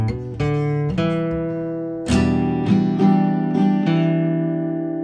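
A guitar strum rings out, then single plucked notes on the fourth string follow from a song intro, each a clear attack over sustained ringing strings, close and moderately loud.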